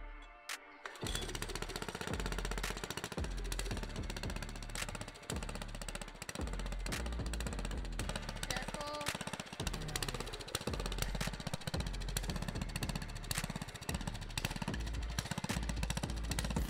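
Garden tiller engine running loud and close, a steady rough mechanical roar with repeated knocking bursts throughout, no talking.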